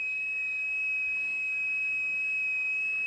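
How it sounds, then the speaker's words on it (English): Geiger counter alarm set off by high natural thorium radiation, a single continuous high-pitched electronic tone held steady and loud throughout over faint background hiss. "so high that the alarm goes off on a Geiger counter"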